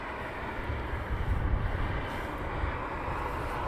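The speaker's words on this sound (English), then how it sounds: "British Airways Dreamliner." A British Airways Dreamliner jet at Heathrow Airport gives off a steady, broad roar of engine noise that swells slightly midway, heard at a distance with no voices.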